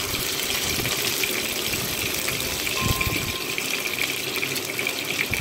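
Chicken pieces for chicken chap go into hot oil over a medium flame, giving a continuous loud hissing sizzle with a brief splash of bubbling in the middle, and no one speaking.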